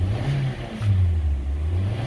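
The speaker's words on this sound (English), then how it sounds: "Let's rev her up a little bit." The engine of a 2013 Hyundai Elantra idles briefly, then revs up in a smooth rise and holds at a higher pitch before easing back, heard close with no speech.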